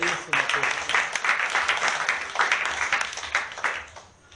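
A church congregation claps for Jesus, a dense, steady patter of many hands that swells and holds for several seconds before thinning out at the end.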